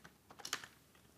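Fingers type on a computer keyboard in a quick, faint burst of a few clicky keystrokes clustered together, then trailing off into quiet, with no voices.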